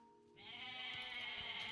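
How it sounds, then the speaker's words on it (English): A goat in the video game Age of Mythology gives a single drawn-out, wavering bleat that starts abruptly and holds clearly over a quiet game background. "Oh, there's some more goats up there."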